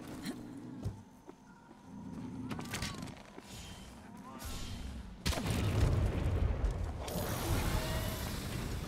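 A large bomb detonates in Monster Hunter World, a heavy booming blast that abruptly lifts the level of already busy battle sounds and rumbles on afterward.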